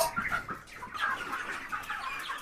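Broiler chickens in a poultry house cluck and chatter in short, overlapping calls, fairly close and continuous over soft background rustle.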